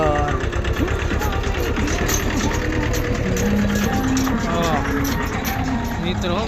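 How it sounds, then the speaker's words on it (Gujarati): A tractor engine chugs steadily on a farm, a loud continuous rumble with rapid knocking pulses, while a voice talks over it. "ફાઇનલી મિત્રો, ટ્રેક્ટર અંદર આવી ગયું છે વાડી અંદર"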